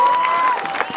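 Applause from a live stand-up comedy audience, a dense spread of clapping that stays steady and fairly loud for about a second with no speech over it.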